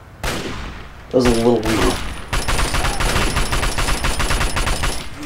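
Rapid bursts of gunfire in Fallout 3 crackle loudly after a short pause, a steady rattling volley filling most of the clip while a voice talks briefly near the start.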